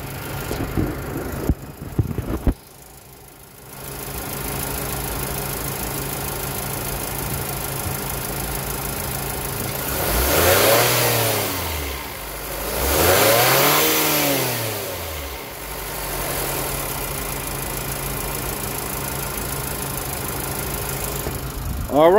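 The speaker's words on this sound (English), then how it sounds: "I'm going to hit the accelerator just so you can hear it." A car engine idles steadily, then revs up twice in two strong swells before settling back to a steady idle.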